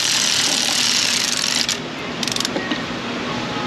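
Close mechanical ratcheting and whirring as a bolt is threaded down and torqued on a 4.6 Ford Mustang GT engine, with a brief burst of rapid clicks near the end.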